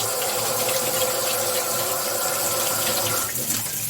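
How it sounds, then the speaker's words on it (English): Running tap water pours steadily into a kitchen sink while hands are washed under it, a continuous close splashing hiss that stays level and uninterrupted from start to finish. "I gotta wash my hands."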